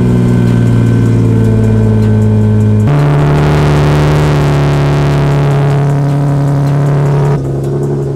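A Nissan 370Z engine revs hard during an attempted donut, a loud sustained mid-pitched drone that jumps higher in pitch partway through, holds, then drops back near the end.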